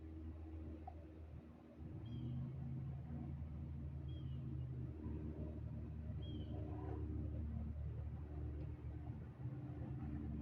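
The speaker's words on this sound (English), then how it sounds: "The car sound is the biggest problem in the streets." Low, steady rumble of car traffic in a street, continuous and droning throughout, with faint higher chirps drifting in over the top.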